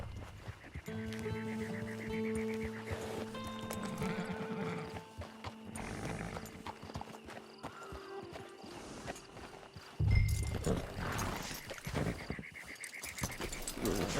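A horse in Red Dead Redemption 2 Online neighs and whinnies, with clip-clopping hooves and scattered background noise; a louder thump lands partway through.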